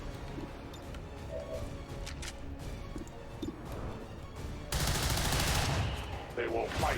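Video game gunfire in a co-op shooter, scattered bursts of shots under game noise for several seconds, then a loud dense stretch of rapid fire near the end.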